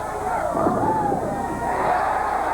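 A crowd at a bowling tournament cheers and hollers in a steady wave of voices. A commentator's voice runs over the noise.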